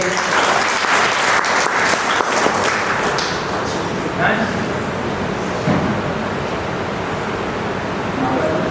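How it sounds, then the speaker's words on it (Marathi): Loud, dense applause from an audience at a summer training camp for children, sustained clapping filling the space for several seconds, with voices mixed in underneath. "जोरदार टाळ्या वाजवू त्यासाठी"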